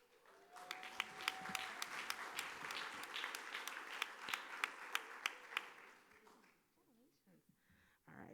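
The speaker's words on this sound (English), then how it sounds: "you heard the big applause for Miss Waivers" Big applause fills a school district board meeting room, dense crowd clapping with sharp individual claps standing out, fading near the end as talk resumes faintly.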